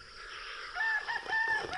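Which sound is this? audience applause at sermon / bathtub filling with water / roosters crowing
roosters crowing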